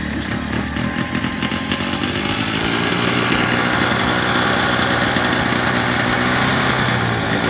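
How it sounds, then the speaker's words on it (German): Small moped engine running steadily after repair of its idle jet, a loud, continuous buzzing drone with a rough, uneven rumble that holds throughout without talk. "Letztendlich haben wir Holgers Mofa zum Laufen gekriegt, aber nicht ohne die ganze Nachbarschaft zu ersticken."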